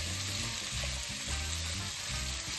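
Speck browning in a pan for pumpkin and potato risotto, a steady close sizzle of frying with faint stirring scrapes, continuous and fairly loud, no voices.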